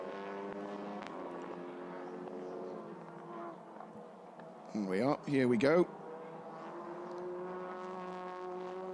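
TCR Europe touring race cars at Oschersleben in 2019 free practice sweep toward turn 1, a loud burst of rising and falling engine notes passing close by midway, with a commentator talking over steady background engine drone.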